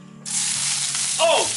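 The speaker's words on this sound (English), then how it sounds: "We're gonna go ahead and add all the onions, green onions, and the garlic first." Onions, green onions and garlic hit a hot pan while tofu with tomatoes is being cooked, starting a sudden loud, steady sizzle that carries on to the end over a faint low hum.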